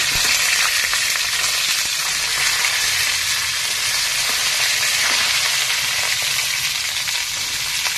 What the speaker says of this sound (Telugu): వెల్లుల్లి వేసానండి. కట్ చేసుకున్న 2 ఎండుమిర్చి వేసేసాను. 2 రెమ్మలు కరివేపాకు వేసేసాను.